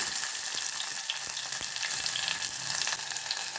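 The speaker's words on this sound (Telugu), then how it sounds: "ఆయిల్ హీట్ అయిన తర్వాత 3 మీడియం సైజ్ టమాటోల్ని కట్ చేసుకొని వేసుకుందాం." Three medium tomatoes, cut up, frying in about three tablespoons of hot oil for tomato pepper rasam; a dense, continuous sizzle with occasional soft stirring knocks, close and steady, no voices.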